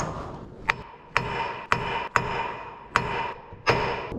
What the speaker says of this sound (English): Let's see if a smaller hammer with more of a hit does the job